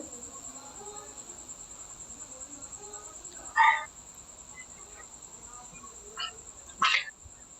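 A dog gives a few faint, distant barks, one near the middle and two close together near the end, over a steady high chirring of insects.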